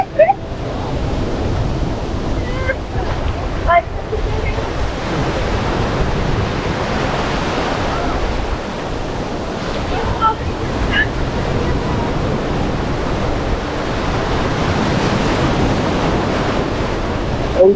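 Ocean surf rolls and breaks at Bellows Field Beach on Oahu, Hawaii, a loud continuous roar of waves with wind buffeting the microphone throughout, and faint voices now and then beneath it.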